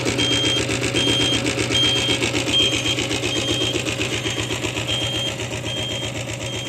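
A Royal Enfield diesel Bullet motorcycle engine idles with a rapid, steady chugging knock, loud and close, with a repeating high electronic beep pulsing over it.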